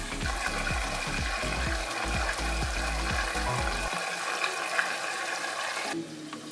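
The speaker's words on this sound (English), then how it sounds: "as the wine starts to cook off, feel free to kind of move these pieces around" Wine bubbling and cooking off in a pan with veal scaloppine pieces, a steady close sizzle with rapid bubbling and low popping, quieting slightly near the end, with no talking.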